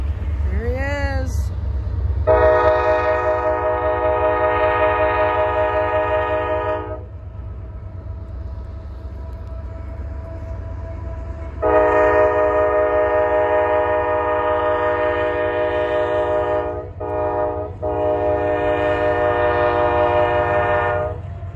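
A CSX M326 eastbound diesel freight train moves onto the main line at East Saugatuck, sounding its multi-chime horn in long blasts with a brief gap, over a low engine rumble, while someone talks nearby.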